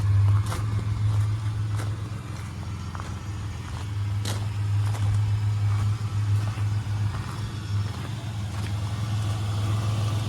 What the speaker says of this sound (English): Sounds pretty good at idle.